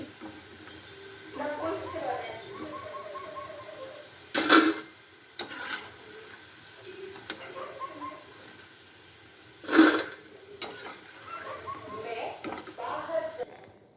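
Crispy cauliflower 65 being stirred in a pan, with soft sizzling and two sharp metallic scrapes of the spoon against the pan, close by and moderately loud under intermittent talking.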